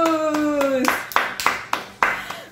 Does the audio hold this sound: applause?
yes